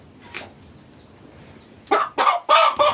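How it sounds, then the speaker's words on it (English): A borrowed rooster in an African farm compound gives a short run of loud, close clucks near the end after a faint earlier note, with rustling in a quiet room. "It's the rooster that I borrowed."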